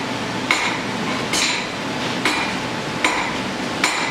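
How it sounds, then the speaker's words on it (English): A forging hammer strikes an iron arrowhead socket at Oldfield Forge, drawing it out thin and wide. About five sharp metallic blows land at a steady pace over a continuous background hum. "we're going to use the crossbeam on the hammer to draw out the socket"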